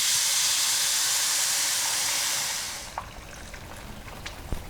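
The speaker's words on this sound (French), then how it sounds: "j'ajoute de l'eau bouillante qui a bouilli du coup dans ma bouilloire" Boiling water from a kettle is poured onto spiced rice in a hot pan, giving a loud, steady steamy hiss for nearly three seconds that then drops away to quiet background with a few faint clicks.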